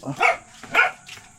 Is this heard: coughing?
no